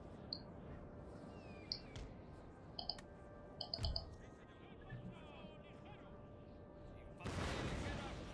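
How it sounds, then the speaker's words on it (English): Cannon fire from a battlefield in Napoleon Total War, a Peninsular campaign fight in Spain, with scattered faint distant shots and clicks and one heavier burst near the end, all quiet, mixed with speech. "Artillery is already firing."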